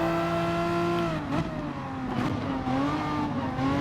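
Mid-engine cup car in Gran Turismo Sport racing game, engine revving high and steady, then dipping at a gear change around the middle and pulling again, loud and continuous with no talk.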